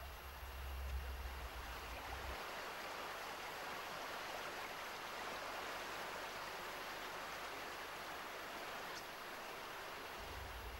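An underground river runs through limestone cave passages, a steady, even rush of water that fills the space without a break and has no voices over it.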